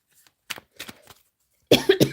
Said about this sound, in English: There's me thinking I'm going really well with my voice, and then I coughed.